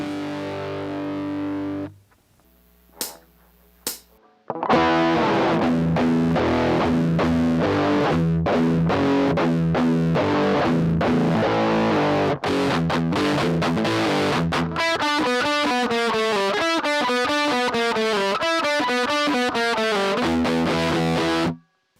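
Distorted electric guitar plays a riff, loud and alone, opening with a sustained chord and a couple of picked notes, then a steady chugging riff and faster single-note runs toward the end.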